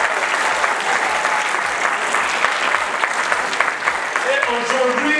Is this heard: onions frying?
no